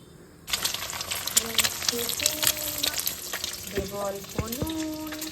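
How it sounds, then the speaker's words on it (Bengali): An egg fries in a wok, with a sudden loud sizzle that starts about half a second in and holds steadily, along with clinks of utensils and some water sounds nearby, heard up close. "সবার আগে ডিমটা ভেজে নেবো"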